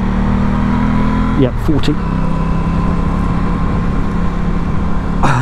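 Aprilia Tuono 660 motorcycle engine droning loudly and steadily while riding, its pitch briefly shifting as it pulls, with wind noise throughout and a rider speaking a few words over it.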